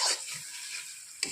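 Chilli, coriander and turmeric powders stir-fried in a pan for chicken kosha, a soft close sizzle with quick scraping stirs at the start and end.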